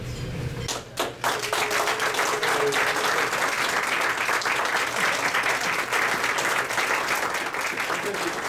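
An audience at a historical remembrance event honoring Thaddeus Stevens gives the authors dense, sustained applause. It rises after a short opening moment and stays loud and steady to the end.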